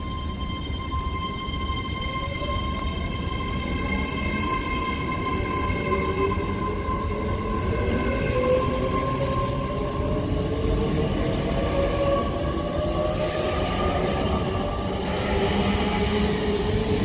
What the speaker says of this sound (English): So 7002 departs Liverpool South Parkway now with the 10:54 Avanti West Coast